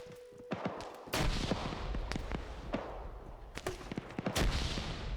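Grenade launcher shots and gunfire in a competitive online shooter match land as scattered sharp cracks and bangs, with a few heavier blasts standing out amid the busy, fairly distant firefight.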